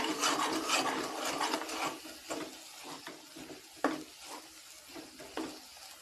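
Masala paste with ground peanuts is sautéed and scraped around a pan, giving raspy stirring strokes over a soft sizzle, with a few sharper scrapes standing out, fairly quiet and without talk.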